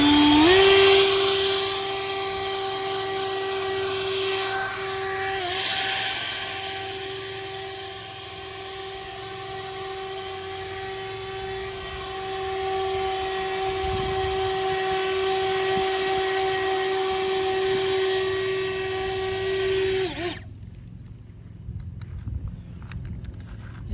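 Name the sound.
Bullseye handheld turbo leaf blower blowing leaves off driveway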